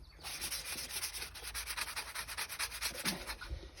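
Rapid back-and-forth rubbing of a cloth over a large copper kettle treated with rust remover, a steady scouring swish repeating several times a second, close and fairly quiet, with no talking.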